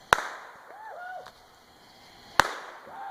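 Fireworks at a backyard display burst with two sharp, loud cracks about two seconds apart, faint whistling streaks rising between them, heard close with no talk in between.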